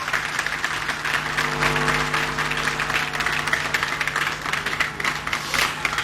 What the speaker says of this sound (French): Je leur demande d'applaudir pour le chef de l'État.